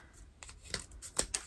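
Scissors snip through folded paper for a paper snowflake craft, giving a few quick, close, crisp cuts spaced irregularly in an otherwise quiet room.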